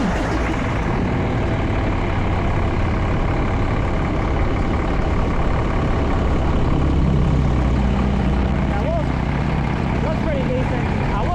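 A truck engine running at a steady idle after being started during a service call, a loud, continuous low rumble that holds throughout.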